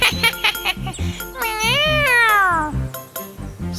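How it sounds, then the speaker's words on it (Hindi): A cartoon cat lets out one long, rising and falling meow, surrounded by short tinkling musical notes and other brief animated sounds. "एक जंगल में एक बिल्ली रहती थी जो बहुत ही खतरनाक थी"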